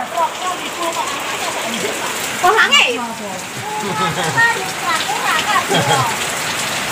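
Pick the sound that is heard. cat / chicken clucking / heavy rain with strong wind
heavy rain with strong wind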